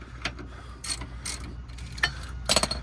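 A ratchet works a 15 mm bolt loose on the sway bar of a Dodge Viper SRT-10, giving several separate bursts of quick, close clicking with short pauses between them.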